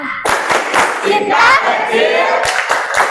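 Classroom group at a Muhammadiyah senior high school doing the rhythmic 'tepuk cinta' clap, a burst of sharp hand claps in a patterned rhythm, close and loud, with voices mixed in.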